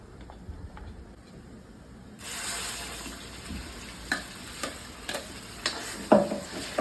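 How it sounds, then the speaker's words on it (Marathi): Onion-tomato paste for pav bhaji sautéing in oil in a pan, a soft sizzle rising after a couple of seconds with stirring scrapes and small pops. No talking. "हे छान परतून घ्यायचंय, जरा तेल सुटेस तोपर्यंत परतून घ्यायचंय"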